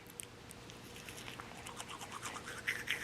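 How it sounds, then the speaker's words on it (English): Soft toothbrush bristles with toothpaste scrub steadily against teeth, a quiet, close, wet rhythmic scratching that grows slightly louder toward the end, with no talking. "Let's give it some water and let's get brushing."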